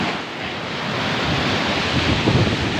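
Large sea waves pounding during Typhoon Kristine, a continuous loud roar of surf mixed with gusting wind buffeting the microphone, swelling near the end with no voices.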